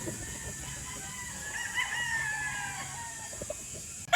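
A black rooster with white markings crows from a short distance, its call stretching over a few seconds against steady farmyard background noise.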